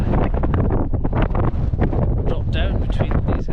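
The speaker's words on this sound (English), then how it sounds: "It's a windy hilltop." Strong wind on a hilltop in Scotland's Ochil Hills buffets the microphone with loud, continuous rumbling gusts, and a person speaks briefly through the roar.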